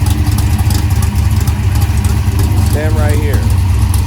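A Dodge Challenger Hellcat Redeye running E85 idles loudly and steadily nearby with a deep rumbling burble, while a voice speaks over it briefly.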